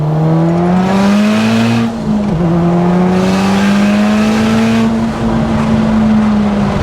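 A big-turbo Audi S3 8P making over 600 bhp accelerates hard, its engine note climbing steadily in loud, sustained pulls with brief dips at the gear changes, close and continuous throughout.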